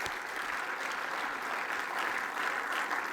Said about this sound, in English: So just give him a warm round of applause.